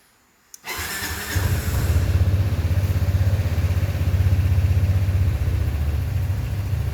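A fuel-injected Kymco Downtown 300i scooter engine catches almost instantly after a brief click, then settles into a steady, close, throbbing idle.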